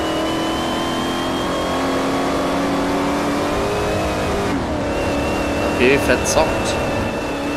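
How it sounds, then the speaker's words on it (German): A Saleen S5S race car in Forza 4 drones steadily under acceleration, its engine tone holding then shifting as it climbs through a gear, with a voice speaking briefly near the end. "man muss echt im dritten aus der Kurve raus beschleunigen"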